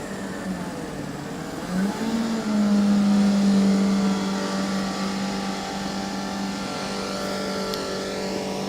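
A Formula Student race car launches on an acceleration run, its engine note climbing sharply and holding a loud buzzing pitch for a couple of seconds before fading into distant drone.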